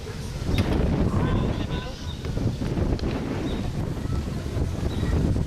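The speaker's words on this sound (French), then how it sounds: "quel vent" Strong wind gusts buffet the microphone outdoors in Provence, a loud, rough, continuous rumble that swells and dips with each gust.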